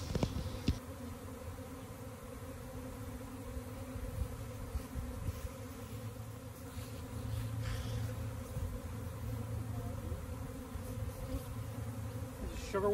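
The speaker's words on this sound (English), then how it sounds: "Because there's a lot of bees in this box now." A honeybee swarm being gathered into a box, a dense continuous buzzing hum from many bees, fairly faint and steady throughout, with occasional handling noises.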